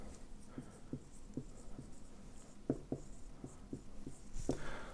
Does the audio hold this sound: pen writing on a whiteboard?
yes